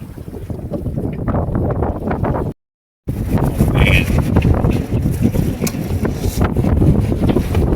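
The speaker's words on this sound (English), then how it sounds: "That's a gust right there." Strong wind gusts roar across a lake around a boat in rough water, a loud continuous buffeting against the microphone broken by a brief gap of silence.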